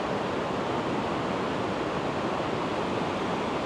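Water pours steadily over the Horseshoe Falls weir on the canal, a dense, unbroken rushing roar that stays close and even throughout with no pauses.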